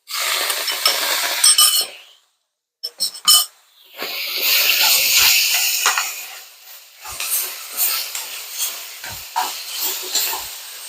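Tomatoes hit a hot pan and sizzle with loud steamy hissing, broken by a brief pause and some clinks of utensils, then continuing to crackle and spit.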